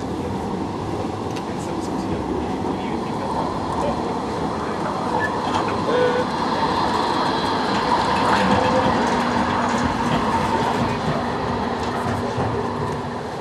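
Essen M-Wagen tram number 1006 rolls along its rails, a steady loud rumble with rhythmic wheel clatter and occasional faint squeal, sustained from start to finish while the car keeps moving.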